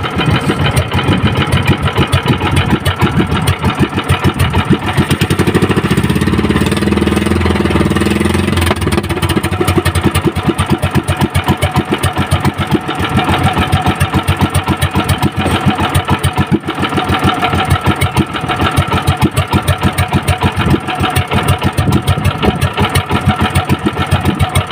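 A chainsaw engine in good running condition after an oil change runs steadily and loudly close by, a dense rapid mechanical chatter that goes on unbroken throughout.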